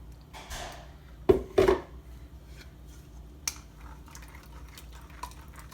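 Blended black beans for a stew peas dish are poured and pushed through a kitchen strainer: two short loud sloshing bursts, then softer drips and scattered light clinks, with no talking.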